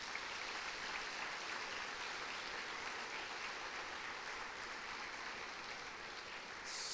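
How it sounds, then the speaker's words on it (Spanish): A church congregation applauding two young deaconesses, a steady wash of many hands clapping that fills the space evenly and sounds somewhat distant and faint, with no voices over it. "Les damos un aplauso a nuestras hermanas"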